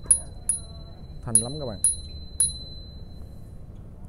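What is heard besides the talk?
bell of a Japanese Bridgestone electric bicycle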